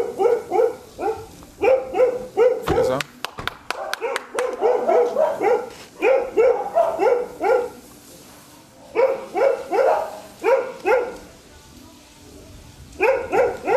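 A dog barks repeatedly in loud bursts, with brief pauses between volleys and a few sharp clatters partway through.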